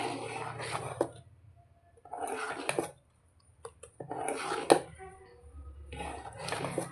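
A spoon scraping and clinking against a bowl while salt is mixed into a batter, coming in several bursts of stirring with short pauses between them, close and moderately loud.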